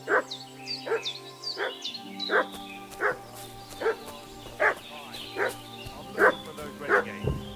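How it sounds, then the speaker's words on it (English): A dog barks in the video game Kingdom Come Deliverance II, about ten sharp barks in a steady, evenly spaced rhythm at moderate volume over a low ambient hum. "What's that dog making such a fuss about?"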